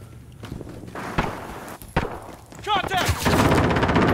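Gunfire rings out in the video game Modern Warfare, a few sharp close shots scattered among footsteps and other game sounds, building into denser noise near the end.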